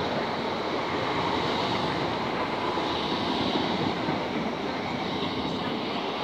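A British Rail Class 465 electric train arriving at Abbey Wood station rumbles steadily past at close range, a dense, continuous roar of wheels and motors that stays level throughout.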